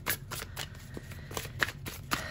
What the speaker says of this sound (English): Let's get some tarot here.